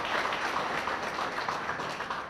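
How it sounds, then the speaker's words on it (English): Sustained applause from a dinner audience at a chamber of commerce event, many hands clapping in a dense, even roar that carries steadily from start to finish with no talking. "One more round of applause for these wonderful gentlemen."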